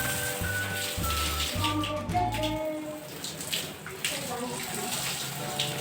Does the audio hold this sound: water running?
yes